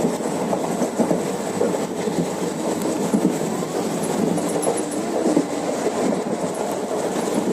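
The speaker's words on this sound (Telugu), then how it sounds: "మేమైతే ట్రైన్లో వెళ్తున్నాము." Steady rhythmic rumble and clatter of a train running on rails, heard from inside the carriage, loud and continuous with faint wheel squeal.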